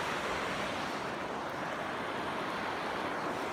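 Floodwater in a swollen creek pours over a dam with a loud, steady, broadband rush that never lets up, close and constant with no voices.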